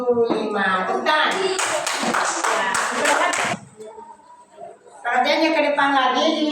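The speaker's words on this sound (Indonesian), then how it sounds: "Tepuk tangan." A classroom bursts into applause, many hands clapping fast and close for a couple of seconds, then a teacher's voice carries on talking over the fading room.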